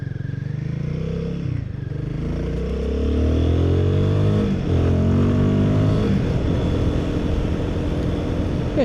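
Royal Enfield Guerrilla 450 motorcycle on a ride near Devils Bridge, its engine droning close and loud, with revs rising and falling through gear changes and acceleration.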